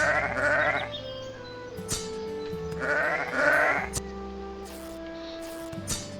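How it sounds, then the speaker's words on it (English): Sheep bleat repeatedly in the video game Arcfall, rising in a couple of drawn-out cries over steady tonal game music and ambient in-game sounds. "Let me kill some more of this sheep quickly."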